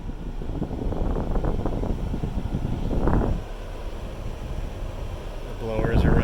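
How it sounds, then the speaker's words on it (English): A car's blower motor runs with the AC switched on, giving a steady, fairly loud whooshing roar of moving air throughout, with a brief voice near the end. "the blowers are running once again"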